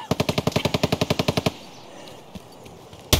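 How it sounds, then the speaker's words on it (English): Rapid automatic gunfire in Escape from Tarkov, a fast regular burst of about fifteen close, loud shots lasting a second and a half, then quiet ambience with a faint distant pop and one more sharp shot at the end. "Is that you shooting, Dirk?"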